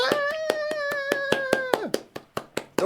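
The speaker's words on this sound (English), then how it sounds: "I'm just going to clap while they do this because it's better than just sitting in silence" A single person claps steadily along with a song playing at home, about six evenly spaced sharp claps over sustained sung music, followed by a few louder, more isolated claps as the music drops away.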